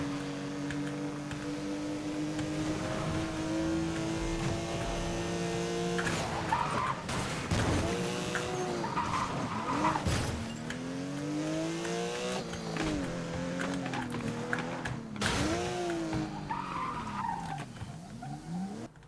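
Tires screeching in wheelspin and skids from a Porsche in the 2012 racing game Need for Speed: Most Wanted, over a steady engine drone, with repeated squealing sweeps rising and falling for most of the stretch.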